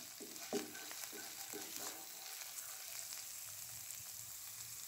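Onion lightly frying in a pan, a soft sizzle with a few stirring scrapes and clicks near the start, then a quieter steady fry, all fairly faint and without speech.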